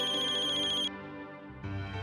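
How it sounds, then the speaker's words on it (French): A mobile phone ringtone plays loud and close, a bright repeating electronic tone that cuts off and is replaced by a lower, fuller chime pattern. "Décroche ton téléphone."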